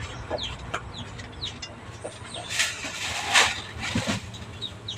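Chickens cluck and squawk in a yard, a scatter of short, fairly close calls over low background noise with no talk.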